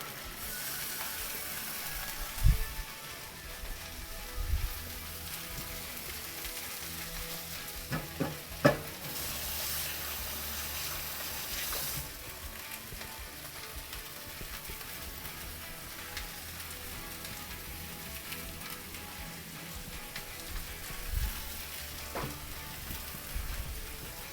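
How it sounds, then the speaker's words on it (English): Pork sizzles and fries steadily in a pan through the whole stretch, with a few louder clatters and stirring scrapes early on and near the end, and no talking over it. "pork going into our pan"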